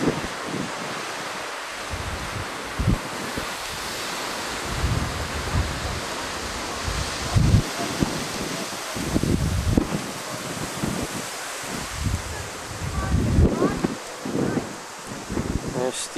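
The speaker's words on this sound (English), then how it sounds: "It's windy out right now." Blustery wind outdoors in snowy weather while neighbors shovel driveways, heard as gusting rumbles and microphone buffeting over a constant airy hiss, with bursts rising and falling throughout.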